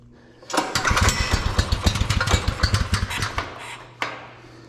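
Small go-kart engine on a beater kart after a carburetor swap, fired up and running with a rough, loud, close putter and rapid pulsing revs, then cutting back before a brief final blip.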